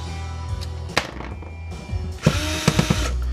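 A power drill backs screws out of a DVD-ROM drive in short whirring bursts with clicks and rattles between them, close by and with no talking.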